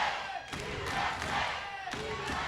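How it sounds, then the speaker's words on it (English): Wrestling crowd in Davis Arena at an OVW Saturday Night Special cage match chanting USA, a rhythmic roar rising and falling with thumping accents, loud and close-filling the room. "You hear the crowd here in Davis Arena, the chant of USA"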